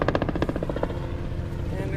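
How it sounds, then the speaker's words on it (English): Helicopter passing over a lake, heard as a steady rapid rotor chop that pulses strongly at first and then thins out, with voices present. "And there's a helicopter."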